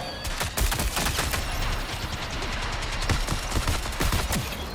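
Turrets in the video game Marathon fire dense, rapid bursts of automatic gunfire that overlap into a near-continuous loud fusillade, with no voices.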